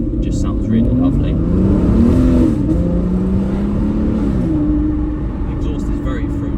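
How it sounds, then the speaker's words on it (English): A 2014 Aston Martin Rapide S 5.9 V12 saloon with a butterfly-valved sports exhaust revs up and holds a loud, close rumbling note, rising in pitch then settling, with faint voices in the background. "The exhaust is very fruity, obviously butterfly valved, sports exhaust, really lovely."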